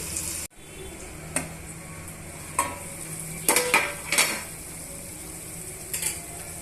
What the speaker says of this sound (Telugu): ఇప్పుడు మనం మూత పెట్టుకొని ఒక రెండు నిమిషాలు వేయించేసుకుందామండి